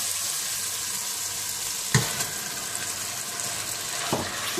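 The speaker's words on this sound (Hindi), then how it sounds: "और चिकन को भी आप अच्छी तरह से भून लें।" Chicken fries in a pan with a continuous hissing sizzle and two sharper scrapes of stirring, with no voices.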